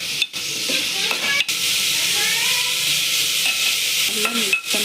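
Sliced onions and small tomatoes stirred in a pan as they fry, a steady close sizzle broken by scraping strokes of a spoon and a few sharp knocks against the pan, no talking.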